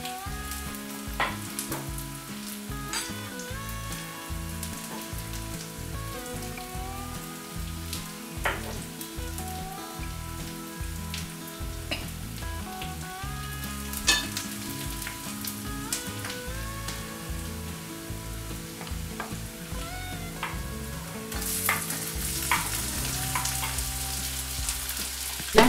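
Onion and garlic sizzle steadily in a pan on the stove, a continuous close frying hiss with occasional stirring clatter and no talk.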